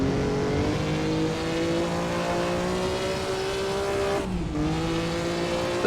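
A 1954 Formula One car screams along at Nürburgring in Assetto Corsa: a steady, loud engine drone that drops sharply once under heavy braking for a corner, then picks back up.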